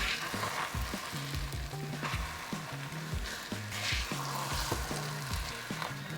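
Suji halwa sizzles steadily in a pan as sugar goes in, a constant close frying hiss with soft stirring scrapes and no voices.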